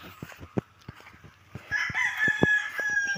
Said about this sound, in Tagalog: Ito yung mga manok guys, pasabong.